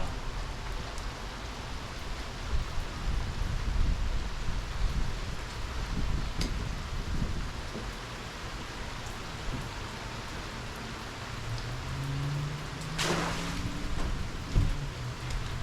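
Steady rain patters on a pier as a constant hiss, with a few louder knocks and a brief low rumble near the end.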